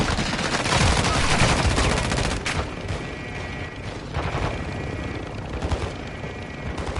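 Sustained automatic gunfire rattles through a Call of Duty MW2 match, with loud, continuous bursts of shots and mechanical clatter close by, barely easing for the whole stretch.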